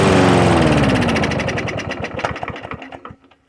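A push lawn mower's small gas engine runs loudly, then sputters with uneven popping beats and dies out over a few seconds, with no talking.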